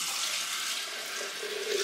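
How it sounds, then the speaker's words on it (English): Tap water runs steadily into a flower vase being refilled with fresh water for a bouquet of roses and eucalyptus, a continuous close hiss and splash with no talking. "I'm actually gonna put some fresh water in there."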